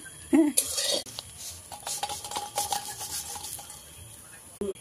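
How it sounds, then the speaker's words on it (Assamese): A utensil stirs half-fried food in a pan, with metallic scrapes and clinks against the pan over a faint sizzle, in short bursts, close up and fairly quiet. "এনেকৈ মাজে মাজে ইটো লাৰি দি আছোঁ"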